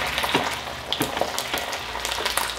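Mexican burrito filling cooks in a pan with a splash of added water while a spoon stirs it, making repeated scraping strokes about every half second over a soft, even sizzle; no voices.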